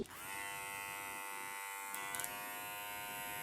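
A TPOB Go hair clipper, brand new out of the box, runs with a steady, close electric buzz that holds evenly throughout with no voices.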